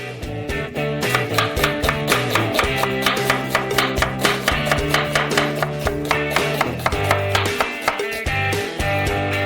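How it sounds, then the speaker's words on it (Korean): Onion is chopped into small cubes with a knife, a fast regular run of crisp taps on a board, close and steady, heard over background music. "이제 양파를 작은 큐브로 썰어주세요"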